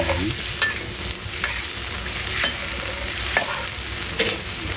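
Thai curry paste frying and being stirred in a pan for a traditional chu chee dish with fish, a steady close sizzle broken by regular scraping strokes of the utensil, no voices.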